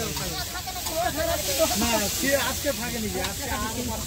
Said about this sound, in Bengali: চলছে চিংড়ি ভাজা, বড়া ভাজা হয়ে গেছে।